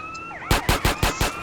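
Police siren in the GTA San Andreas video game, a loud wailing siren sweep followed by a rapid series of five rhythmic bursts, alone with no talk.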